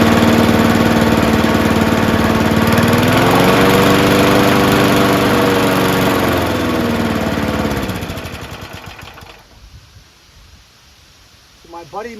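A 1974 Ransomes Bob-Cat push lawnmower with a Wisconsin Marine 4HP engine runs loud and close with a steady rumbling drone, then cuts off and winds down into near silence.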